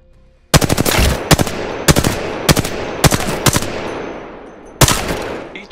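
Automatic weapons in the shooter game Apex Legends fire loud, close bursts of rapid shots separated by brief pauses, with a final burst after a longer gap.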